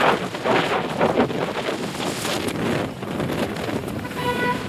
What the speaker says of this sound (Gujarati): આ તો અત્યારે ઠંડી લાગે એવો પવન